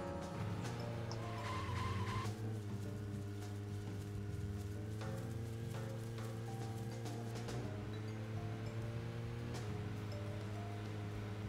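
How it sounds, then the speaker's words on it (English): Car in the Deadly Premonition video game skidding through a handbrake spin-out, a steady engine drone with harmonic hum overlaid by scraping tire squeal, continuous and fairly loud with no talking. "handbrake really makes it spin out of control"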